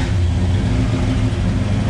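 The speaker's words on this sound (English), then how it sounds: "Now the last thing we need to do is start this engine" A 1965 Ford Fairlane 500 with a 289 V8 runs close and loud just after starting following an oil change, a steady, dense engine rumble with no pauses.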